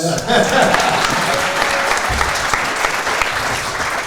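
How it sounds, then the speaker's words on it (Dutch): Loud, steady audience applause fills a live Dutch-language show, with some scattered voices and a few cheers mixed into the clapping throughout. "Applaus!"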